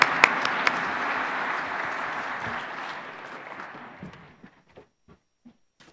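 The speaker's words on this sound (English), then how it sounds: "Could we have a big round of applause for our panelists?" Audience applause for a panel of speakers after a discussion, a steady dense clapping that holds for about four seconds and then thins into a few scattered, fading claps.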